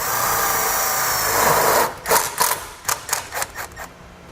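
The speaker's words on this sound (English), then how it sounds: "Take a self-tapping screw." A power drill drives a self-tapping screw into a towed vehicle: a sustained whirring grind for about two seconds, then several short stuttering bursts as the screw is snugged down, close and alone.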